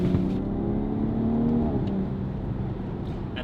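A BMW G30 540i with a Valvetronic exhaust, stock downpipes and a software tune rumbles and revs up close. The engine drones in a low hum that swells slightly, then eases back.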